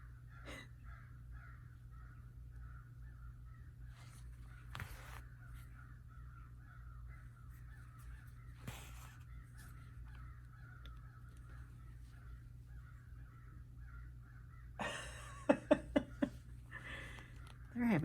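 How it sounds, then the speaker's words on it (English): Crows caw repeatedly at a distance outdoors, harsh calls recurring in loose bursts against a quiet hum, followed near the end by a few sharp, close knocks. "Boy, the crows are really going at it."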